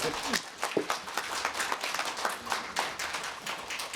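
Audience at a warm talk event in Dobong giving a short round of applause, several sharp claps over a few seconds with voices mixed in.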